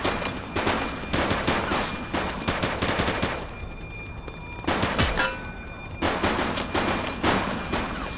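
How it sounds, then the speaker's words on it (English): Bursts of rapid automatic and pistol gunfire crackle through a shootout in the police simulator game The Precinct, dense volleys broken by a brief lull before firing resumes. "Shots fired!"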